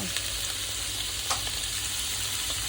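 Onion sautéing with tofu, soy sauce and fermented black beans gives a steady, close hiss of frying, with one sharper crackle partway through and no talking.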